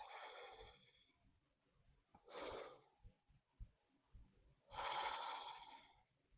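Slow breathing during a core workout: a deep breath at the start, then a sharp inhale and a long exhale, each a distinct airy rush with quiet soft thumps between them.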